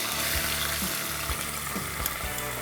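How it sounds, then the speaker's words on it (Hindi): Ginger garlic paste and finely chopped onion fry in a pan, a soft continuous sizzle with small stirring knocks, close and fairly quiet with no talking. "अब इसके अंदर जाएगा ये जिंजर गार्लिक का पेस्ट, और इसके अंदर डालेंगे बारीक कटा हुआ प्याज।"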